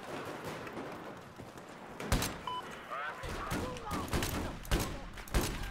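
Gunfire in Battlefield 4 gameplay, including a Magnum pistol firing at long range, comes as sharp irregular shots and thuds at moderate level, with a voice talking over the action.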